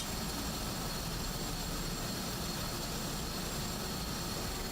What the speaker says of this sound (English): Also, this jet is loud.